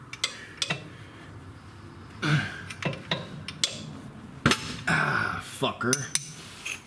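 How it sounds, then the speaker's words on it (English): A metal wrench clanks and clinks in quick, uneven bursts while it is worked against the axle and differential of a KEI mini truck, close by, with a man briefly muttering over it. "I'm gonna put this wrench in here."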